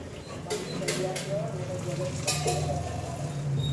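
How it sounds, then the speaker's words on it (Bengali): Ground onion, ginger and garlic spice paste dropped into hot oil with cumin seeds, giving a few sharp sizzling bursts and stirring scrapes under a continuous background hum while someone speaks. "বাটা মশলা দিয়ে দিচ্ছি"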